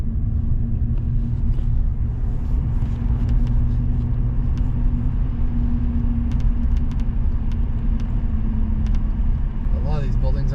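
A car on new tires drives along a snowy road, giving a steady, loud low rumble of engine and road noise inside the cabin that holds constant from start to finish, with a few faint higher clicks near the end.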